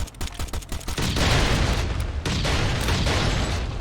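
In the video game Last Island of Survival, rapid gunfire pops give way to a loud, rumbling grenade blast that fills the mix, followed by sustained noisy booms and crackle.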